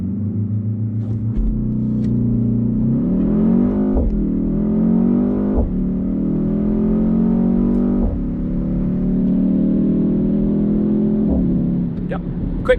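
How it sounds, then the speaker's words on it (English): A 2025 BMW X2 M35i with a four-cylinder engine and dual-clutch gearbox makes a launch-control start, its loud exhaust rising in pitch through several quick upshifts over about thirteen seconds. "Every sport activity coupe should have launch control,"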